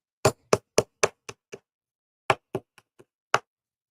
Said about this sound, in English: got to use my hammer for just a second